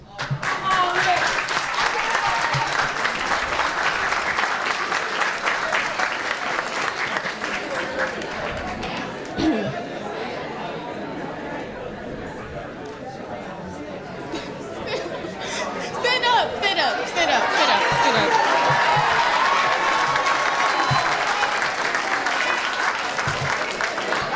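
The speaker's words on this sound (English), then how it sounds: "let's give our parents a standing ovation" A crowd at an eighth-grade graduation gives a long standing ovation, with sustained loud clapping mixed with cheering and chatter throughout, swelling again toward the end.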